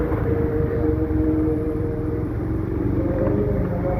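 A motorcycle passes close by, its engine hum and rumble steady and fairly loud against the drone of surrounding road traffic.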